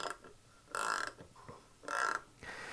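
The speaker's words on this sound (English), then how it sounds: "and then you just rotate it and start using the ratchet" A Wera Kraftform Kompakt ratchet clicks close up and quietly in three short bursts of rapid ratcheting as it is rotated, with brief pauses between.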